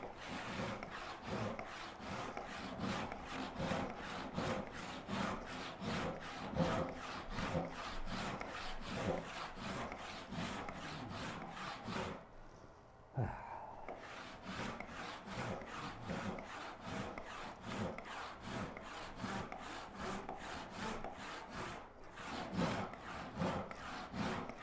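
Steady rhythmic strokes of a hand saw ripping along wood stock at a woodworking bench, close and even-paced, with one brief pause midway before the sawing resumes, no talking.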